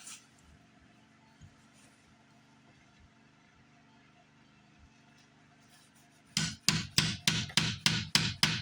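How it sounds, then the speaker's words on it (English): Quiet workshop room tone with a faint hum, then a run of rhythmic sanding strokes on a wooden guitar neck, about eight rasping back-and-forth passes, close and fairly loud. "So it's time for sanding"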